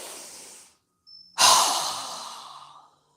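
During a yoga breathing exercise, a softer breath fades out, then a loud, forceful exhale through a wide-open mouth rushes out close up and tapers away, with no talking.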